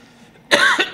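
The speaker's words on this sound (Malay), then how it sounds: "batuk sekarang ni." A single person coughs during a public lecture, a sharp burst followed by two shorter coughs, close and loud after a near-silent pause.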